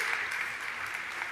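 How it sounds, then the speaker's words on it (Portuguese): Strong, steady applause from a church congregation fills the room for its whole length, dense clapping with no pause and a faint voice barely showing underneath. "essa palavra merece um aplauso bem forte"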